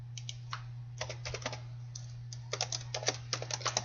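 Keys on a computer keyboard tapped in quick irregular bursts with short pauses, close and fairly quiet over a low electrical hum, no speech.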